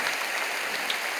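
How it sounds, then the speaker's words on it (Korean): Dense, steady applause from a church congregation during a prayer meeting service, a close, even wash of many hands clapping without pause. "여러분 크게 박수로 다시 한번 감사를 드릴까요?"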